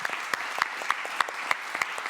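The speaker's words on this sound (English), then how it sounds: "Please give him a warm round of applause" Hands clap in welcome at a World Food Day opening plenary, a fairly faint, even run of applause with regular sharper claps standing out over about two seconds.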